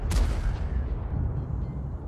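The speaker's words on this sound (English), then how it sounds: "there's a nice shot into the lower plate" Tank cannon shot striking a T-54's lower front plate in a combat video game: a loud, sharp blast with a heavy low boom that decays into a long rumbling tail, close and alone.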